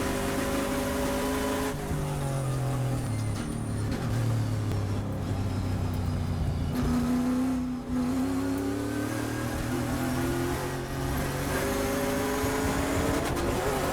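Onboard a Trans Am race car at Thunderhill, the engine roars steadily as it accelerates, pitch climbing through each gear with clear shift breaks, loud and close throughout.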